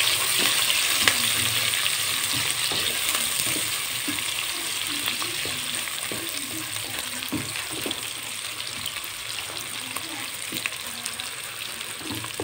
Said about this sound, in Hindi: नाज़रीन, प्याज को हमने ब्राउन करना है।